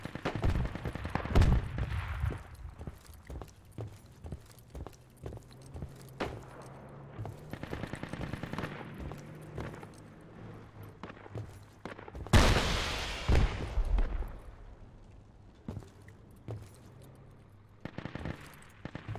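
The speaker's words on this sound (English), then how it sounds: "Somebody just shot Zagiri." Gunfire in a video game, with scattered single shots and short automatic bursts throughout, plus one loud burst midway and a few quieter rattling volleys toward the end, with no talking over it.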